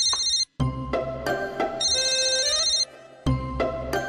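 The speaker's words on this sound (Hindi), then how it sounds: "किसका फोन था?" An electronic phone ringtone plays loudly in repeated melodic bursts, with a brief gap and a short pause between rings.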